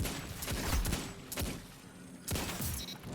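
Rapid bursts of gunfire from an Austringer hand cannon in the Destiny 2 video game, several loud sharp shots in clusters with a short gap before a final volley, no talking.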